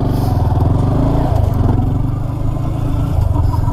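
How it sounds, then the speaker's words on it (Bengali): A motorcycle engine runs close up, a steady low idling rumble with a slight rev, loud and continuous throughout. "বাইক স্টার্ট করা যাক"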